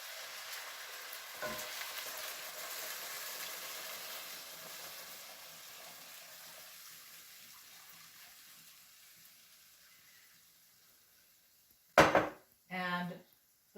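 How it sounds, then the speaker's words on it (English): Beef broth hitting a hot pot around a whiskey pot roast, starting with a loud hissing sizzle that slowly dies away into quiet simmering, followed near the end by a couple of sharp clanks of a lid or utensil. "I'm going to add 3½ cups of beef broth around the sides."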